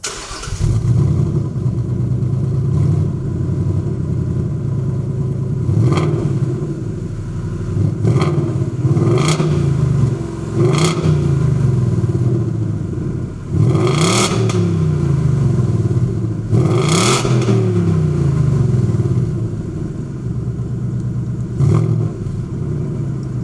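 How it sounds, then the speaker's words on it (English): A 2018 Ford Mustang GT Performance Package V8 exhaust idles with a deep rumble and is revved in about eight sharp, loud bursts heard from behind the car. "take a listen to the exhaust that we're going to fire up from the back"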